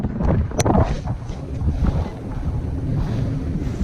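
Wind buffets a chest-mounted camera's microphone outdoors on a lake in heavy low rumbling gusts, with a few brief knocks early on and a steady roar throughout.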